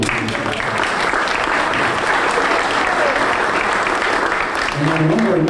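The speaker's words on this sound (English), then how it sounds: "So a round of applause for Debbie Gurley." Sustained applause from an audience at a ribbon-cutting ceremony, steady dense clapping throughout, with voices talking over it near the end.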